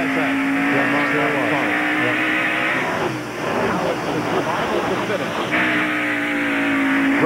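NASCAR stock cars racing at the 1993 Food City 500, engines roaring loudly and steadily, pitch rising and falling as they accelerate on a restart, with a commentator talking over the noise.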